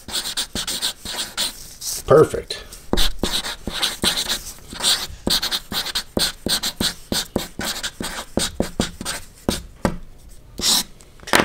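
Washable chalk ink markers squeak and scrape across paper in quick repeated strokes, close and fairly loud, with someone speaking briefly between the marks.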